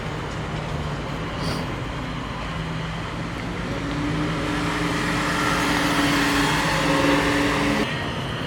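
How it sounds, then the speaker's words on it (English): A supercharged Chevrolet Chevelle pulls away from a car show, its engine note rising steadily under a constant roar of nearby traffic and crowd noise, growing louder toward the end before cutting off. "This is the supercharged Chevelle, I believe this is. Sounds so good."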